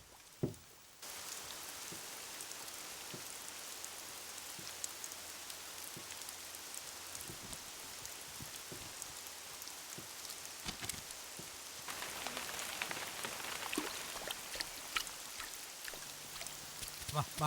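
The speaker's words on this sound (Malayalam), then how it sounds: "കാലം തെറ്റിയ മഴ." Unseasonal rain falls steadily in a dense, even hiss, with scattered drips and patters standing out and the downpour thickening toward the end.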